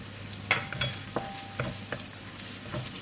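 Brinjal with curry powder sizzles in ghee in a pan while being stirred, a gentle steady frying hiss punctuated by several sharp scrapes and taps of a spatula, close and fairly quiet.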